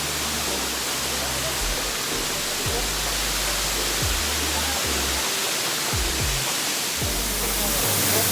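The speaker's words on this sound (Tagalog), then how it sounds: "Welcome to MAYBUNGA Waterfalls here in Tigbao, Banawe, Pamplona, Negros Oriental." Maybunga Falls waterfall in Tigbao, Banawe, Pamplona, Negros Oriental, a steady broadband roar of falling water filling the whole clip, loud and continuous, with low thumps of wind or handling underneath.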